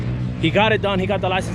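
A drift car's engine idles steadily in the background, a low continuous hum sitting under a voice as he talks.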